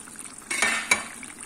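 Boiled gongura sorrel leaves being stirred into an Andhra-style mutton curry in a pot, with two soft scraping bursts of a spoon against the vessel over a low background hiss, with no talking.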